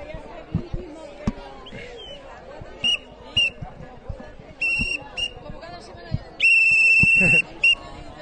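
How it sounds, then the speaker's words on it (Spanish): A whistle is blown repeatedly at a street protest in Murcia against the railway wall, in sharp bursts of shrill blasts with one long one near the end, over crowd chatter and thumps. "Ahí Gonzalo dándole al pito, a silbato"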